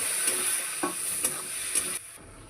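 Raw plantain curry sizzles in a pan right after besan water is poured in, a steady close frying hiss with a few brief stirring scrapes before it quiets near the end.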